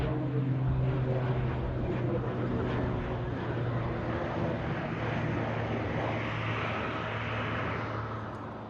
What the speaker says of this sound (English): EasyJet's coming down on runway 23 right.